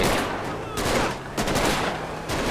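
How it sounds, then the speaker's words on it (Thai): Bursts of rapid gunfire crackle in dense, continuous volleys in GTA V, loud and close, with short dips between bursts. "มันยิงเรารัวๆเลยฮะ"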